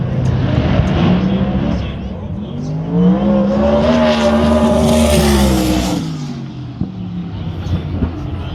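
A drag racing car launches hard down the strip at a qualifying event in Brisbane, its loud engine roar rising and sweeping past before fading, with crowd and track ambience around it.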